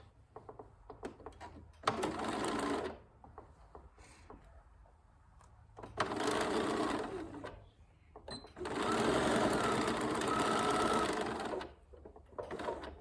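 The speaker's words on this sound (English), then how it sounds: "And then I just get the next corner and sew across it." Close-up sewing machine stitching across a zipper pouch corner, with three loud whirring runs separated by short pauses full of small clicks and handling sounds, and no speech.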